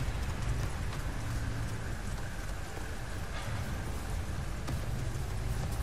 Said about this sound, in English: This is when it started raining.